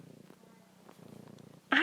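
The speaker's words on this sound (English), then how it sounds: "There he goes, purring." A pet cat purring right up close at someone's neck, a soft continuous rumbling buzz, faint and steady, ending with a sudden louder burst of noise.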